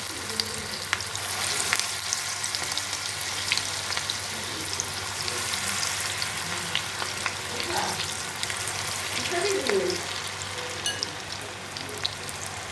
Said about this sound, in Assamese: এয়া আমি ধুনীয়াকৈ এতিয়া পকৰিকেইটা ধুনীয়াকৈ কেৰাহীখনত দি দিম।